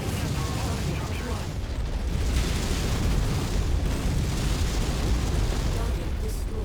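Dense, continuous roaring blasts of missile explosions in the video game MechWarrior 5, a loud rumbling wash with crackling bursts that swells and holds for several seconds.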